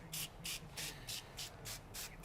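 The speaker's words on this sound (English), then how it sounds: "So we spray the Blue Magic on as a pre-treatment" Blue Magic pre-treatment is sprayed onto a shirt in seven quick, evenly spaced hissing bursts, close and clear with nothing else audible.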